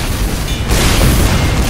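A cannon fires in the video game Team Fortress 2: a loud, heavy boom bursts in partway through and rolls on as a dense, rumbling blast over busy game noise.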